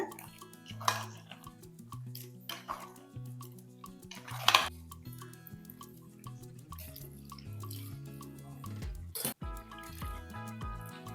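Spoon clinks and scrapes against a pot as masala is mixed into a country chicken curry, soft wet squishing between sharper metallic knocks, fairly quiet and close, under background music with no talking.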